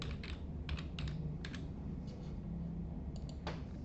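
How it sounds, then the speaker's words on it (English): Keystrokes on a computer keyboard tapping in a login code, arriving in short clustered bursts of clicks with pauses between, fairly close and clear over a low steady room hum, with no voices. "we'll type in our code here"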